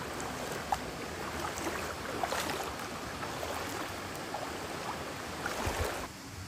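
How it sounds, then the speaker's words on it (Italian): Continuous rushing water from a small waterfall in shade, a steady outdoor splash and burble, fairly close and unbroken. "c'è anche una piccola cascadina qui"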